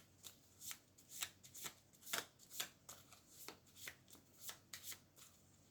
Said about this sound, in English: shuffle the card like so